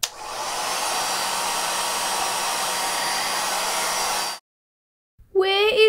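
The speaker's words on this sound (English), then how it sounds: "Don't worry, cause I got hair dryer too" A hair dryer blows loudly and steadily for about four seconds, then cuts off into silence before a voice begins.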